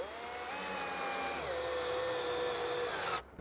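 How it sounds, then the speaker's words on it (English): A power drill drives a screw into the end grain of a piece of timber, its motor whining steadily with a pitch drop partway through, then cutting off abruptly. "when you're drilling into the end of a piece of timber, you're drilling in with the grain rather than across it"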